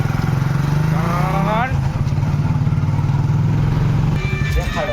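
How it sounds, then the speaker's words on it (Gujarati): A motorcycle engine idles and revs with a steady low rumble, rising briefly, as a voice is heard faintly in the background. "બાઇક ચાલુ કરી દીધું"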